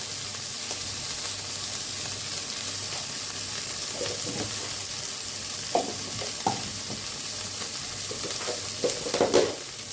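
Pasta frying in a pan with salt and turmeric, Bengali style, under a constant sizzle, broken by scraping stirs and spatula knocks that come more often toward the end.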